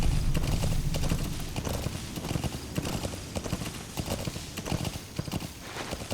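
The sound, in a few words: horse hooves galloping in video game Metal Gear Solid V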